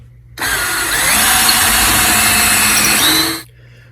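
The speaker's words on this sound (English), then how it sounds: "I'm going to go ahead and drill through it." A power drill bores through a wooden stud in a garage ceiling, a loud, close, continuous whine lasting about three seconds that shifts slightly in pitch under load before cutting off abruptly.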